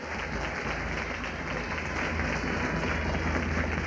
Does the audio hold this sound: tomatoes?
no